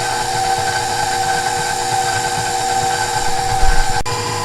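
An electric stand mixer whirs steadily while cutting lumps of butter into flour for an all-butter pie crust, a constant close motor hum with a brief clunk near the end.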